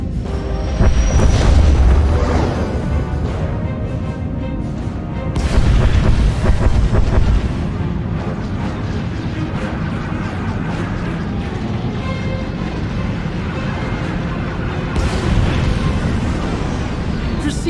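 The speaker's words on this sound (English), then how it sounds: "Proceeding with bombardment, targeting infrastructure and industrial objectives only." Heavy booming explosions from a space bombardment in the Star Wars: The Old Republic Onslaught expansion, a big blast near the start and another around six seconds, rumbling over sustained loud battle ambience with a voice speaking throughout.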